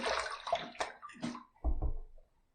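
Water rinses a face after a shave with a copper adjustable safety razor, heard as several short, close splashes and trickles in uneven bursts, ending with a louder splash and then quiet.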